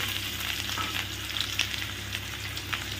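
Chopped onion fries in hot oil tempered with black cumin (kalo jeere) while fish is cooked, giving a steady, dense sizzle with light stirring scrapes and no talk.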